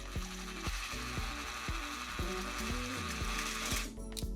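A drill bores a small pilot hole through the hard steel plate inside an aluminum magnetic track-light rail, making a close, continuous grinding whir with steady clicking pulses throughout.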